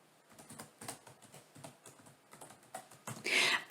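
Quick clatter of fingers typing on a computer keyboard, an irregular run of light close-up key taps that builds into a louder burst near the end, with no voices.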